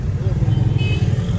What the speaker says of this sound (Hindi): तो क्वेटा वालों के लिए ये एक मुसीबत है ट्रैफिक।